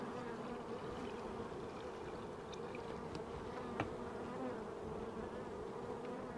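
Bees swarm densely around an open beehive with boxes, a steady, close, continuous buzzing drone that holds evenly throughout with no talk over it.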